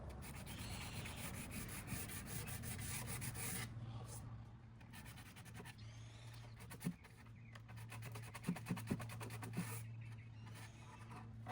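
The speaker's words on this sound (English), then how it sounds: "I also ended up doing a little bit of hand sanding on the trim as well as the finger pulls on the" Hand sanding wood trim and drawer finger pulls on a mid-century modern nightstand, continuous rhythmic rubbing strokes up close, pausing briefly then resuming with faster scratchy passes.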